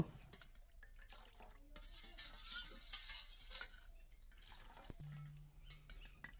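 Jaggery sharbat with a little black salt being stirred in a glass, faint spoon clinks and liquid swirls in a quiet room, with a soft tone near the end.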